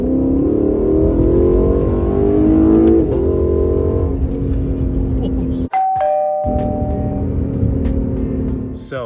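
A Lexus LC500 engine revs hard with a rising, throaty roar, then eases off. After a brief sharp cut, a steadier idle-like rumble follows, loud and close.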